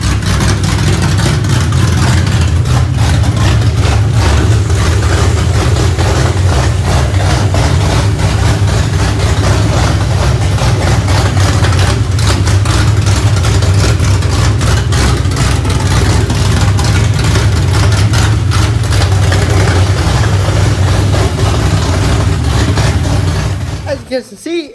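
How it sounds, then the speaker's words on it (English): A 2004 Ford Mustang New Edge idles after being started, a loud, close, steady low rumble that continues for over twenty seconds before cutting off abruptly. "Let's go ahead and start it and see how it runs."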